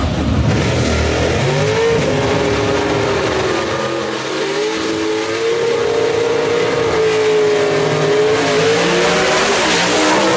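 Gasser drag race cars at Knoxville Dragway launching and accelerating hard down the track, loud engine roar rising and shifting in pitch as they pull away, no talking.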